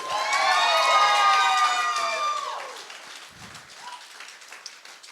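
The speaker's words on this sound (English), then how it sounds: "Yeah, clap it up." Wedding guests at a country club reception clap and cheer loudly together, shrill whoops and shouts riding over steady applause before the noise fades into scattered claps and murmurs.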